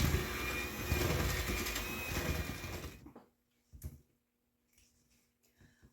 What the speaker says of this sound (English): Okay, I'm going to mix this up with the mixer.